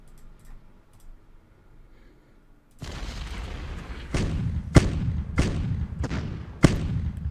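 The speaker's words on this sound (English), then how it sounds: "Didn't really expect to kill any of them with artillery, but it should lower their readiness and morale." In the World War II strategy game Decisive Campaigns: Blitzkrieg, a low rumble starts partway through. About five sharp, loud artillery booms follow in quick succession, spaced roughly half a second to a second apart.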